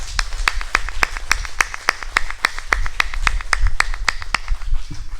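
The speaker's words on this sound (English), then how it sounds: "let's give another round of applause for Herb." A small meeting audience gives a round of applause, a steady run of sharp, evenly spaced claps at moderate volume, sounding like just a few people clapping in rhythm for about five seconds.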